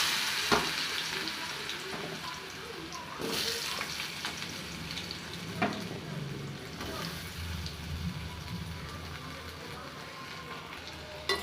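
Potatoes and okra fry in hot oil with a steady, dense crackling sizzle throughout, broken by a few soft scrapes and taps of a stirring spoon; faint talk is barely present.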